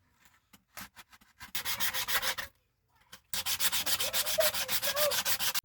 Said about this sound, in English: now we're just going to sand it all down and smooth